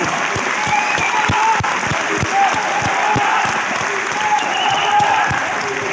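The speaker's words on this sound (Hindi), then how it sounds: "एक बार जोरदार तालियां आप अपने लिए बजा सकते हैं।" An audience claps loudly and steadily at a team gathering, a dense sustained round of applause with a few distinct hand claps standing out near the microphone.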